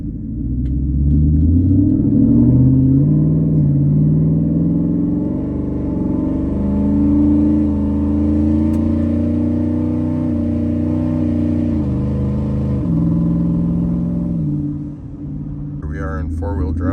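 A tuned twin-turbo Ford F-150 with a Coyote V8 accelerating on a street at wide open throttle: a loud, close engine drone whose pitch climbs early on, then holds a steady, heavy rumble.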